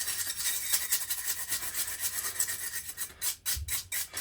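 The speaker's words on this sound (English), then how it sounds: "I'm just brushing off the back plate right now with a plastic brush. You can probably hear it." A plastic brush scrubbing the back plate of a 1980s MXR Micro Amp guitar pedal, close up with steady rhythmic bristly rubbing and scraping, a few harder strokes near the end.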